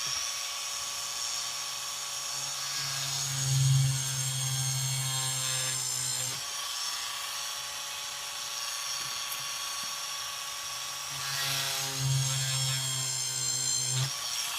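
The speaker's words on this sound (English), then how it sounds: "So I'm just gonna using this 2mm the drill plus dremel, and put on a low speed and drill a hole" A Dremel rotary tool with a 2mm drill bit at low speed whines steadily with a high-pitched drone while drilling a hole in a Tamiya Mini 4WD part, pausing briefly midway then resuming, close and continuous with faint grinding as it bites in.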